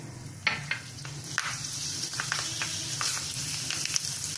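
Mustard and fenugreek seeds crackle in hot oil for a tempering for sambar, giving a steady sizzle punctuated by sharp pops and spatters at irregular intervals.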